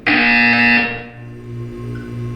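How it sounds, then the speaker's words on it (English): A buzzer from the video game Portal 2 sounds once, loud and tonal for under a second, then fades into a low electronic hum and faint pulsing background. "You will hear a buzzer."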